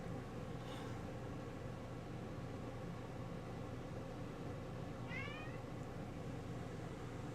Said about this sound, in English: Mars is 5x5 on meows.